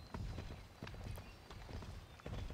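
Horse hooves clip-clop at a steady walking rhythm in a riding-camp video game, fairly close and clear, with no talk over them.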